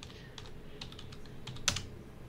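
A computer keyboard is typed on in a short burst of light, close key clicks, with one louder tap near the end, against a quiet background.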